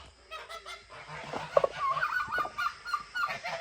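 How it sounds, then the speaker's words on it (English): Turkeys on a small farm gobble and honk in noisy bursts, close by and fairly faint overall, several calls overlapping in a busy pen. "How about you turkeys?"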